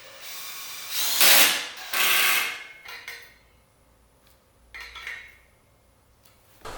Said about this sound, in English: hand tighten with a Torx 30 screwdriver, just so you don't over torque these